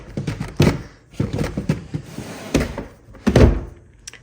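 A drawer in an attic homeschool room is opened, giving a run of close wooden thunks, knocks and short sliding rumbles spread across several seconds.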